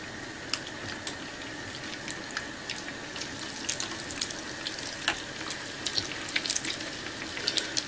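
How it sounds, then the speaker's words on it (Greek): Food fries in a pan, a faint steady sizzle with sharp crackles and pops scattered throughout and no voices. "Και τις αφήνετε τώρα να τηγανιστούν καλά"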